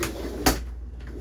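Shower door in the bathroom of a 2021 Thor Outlaw RV, a single close knock or clack as it moves, over a steady low hum.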